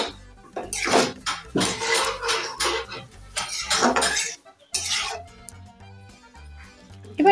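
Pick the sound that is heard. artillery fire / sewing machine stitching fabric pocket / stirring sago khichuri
stirring sago khichuri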